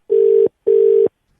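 A telephone ringback tone during a prank call: two loud, steady tone bursts of equal length separated by a short gap, then silence, with no voices.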